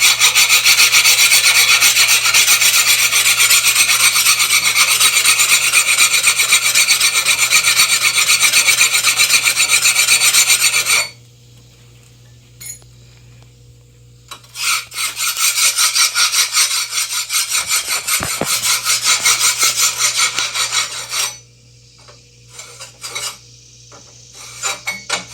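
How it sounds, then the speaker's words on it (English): A blade scrapes back and forth across a two-sided coarse and smooth grinding stone in loud, close rasping strokes, broken by a pause and then resuming in bursts. "grinding stone."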